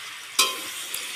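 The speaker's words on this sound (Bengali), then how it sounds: "আর একটু ভালো করে কষিয়ে নেব। ভালো করে কষিয়ে নিচ্ছি দেখুন।" Potato and pumpkin curry being sautéed and stirred in a pan, giving a short close scrape-and-sizzle burst, then a steady low frying hiss with a faint second scrape.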